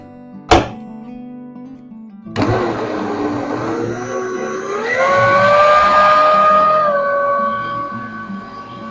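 An electric mixer beats an egg into butter cake batter, starting after a sharp knock, then a loud steady whir whose pitch rises and holds for several seconds before easing down.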